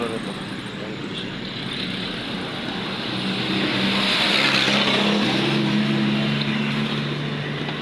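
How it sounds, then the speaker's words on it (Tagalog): Road traffic heading toward San Mateo, Rizal, with car engines humming and revving amid steady road noise that swells partway through, while someone talks nearby. "Yan ang traffic guys"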